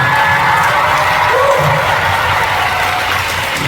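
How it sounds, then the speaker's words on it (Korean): Concert audience at a K-pop show applauding and cheering for the production staff, a dense, steady wash of crowd noise with shouts and whoops, loud and continuous throughout. "여러분들 이분들한테도 한번 박수 드립니다"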